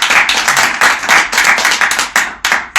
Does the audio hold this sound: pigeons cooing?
no